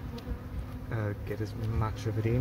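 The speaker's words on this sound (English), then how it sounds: "The bees are getting stingy because it's raining" Bees swarming around a large hive being removed during a demolition job on a rainy day, a steady insect buzz running throughout, close and fairly loud, with a person talking over it.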